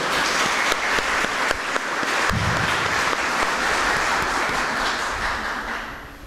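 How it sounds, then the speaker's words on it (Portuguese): Audience at a spiritist lecture week in Bicas applauds the event volunteers: a long, even wash of many hands clapping at moderate distance, sustained for several seconds and slowly fading toward the end, with no talk. "eu queria pedir uma salva de palmas para todos os voluntários da Semana Espírita de Bicas"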